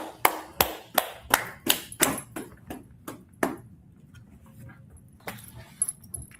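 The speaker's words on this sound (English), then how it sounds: "Clap it up for an excellent class." Participants in an online scripture class clap for it with about ten steady, evenly spaced claps over a few seconds. The claps are close and crisp, then give way to quiet room noise with a few faint knocks.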